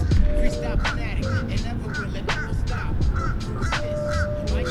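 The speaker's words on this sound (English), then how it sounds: "I'm not sure if you can hear that bird." A bird gives repeated harsh, caw-like calls at a steady pace outdoors, over a constant rumble of background noise.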